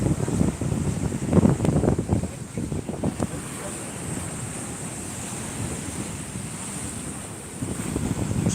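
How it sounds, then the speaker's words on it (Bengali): Rough, churning sea surf at Shankarpur beach rolls in as a steady roar with heavy wind buffeting the microphone, a few louder wave crashes standing out in the first few seconds. "দেখো সমুদ্রে উত্তাল ঢেউ তোমাদের দেখাচ্ছি দেখো পুরো সি বিচটা দেখতে পাচ্ছ"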